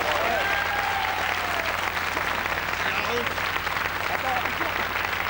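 A crowd applauds steadily at a 1987 TF1 television carnival show, loud and sustained clapping filling the whole stretch with a few faint voices mixed in.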